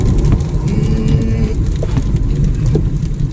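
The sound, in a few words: heavy rain while driving a car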